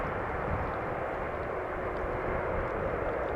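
An airliner landing on runway 18R at Amsterdam Schiphol, heard as a steady broadband engine roar throughout, distant but constant, with no talking.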